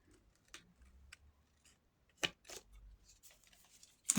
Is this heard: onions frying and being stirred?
no